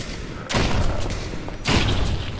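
Two loud, booming gunshot volleys ring out about a second apart in the VR zombie game Propagation VR, each blast trailing a rumbling echo.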